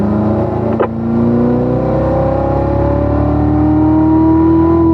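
A race car accelerating out of a corner on a track, its engine note rising steadily in a loud, close, continuous drone with a brief dip before the climb.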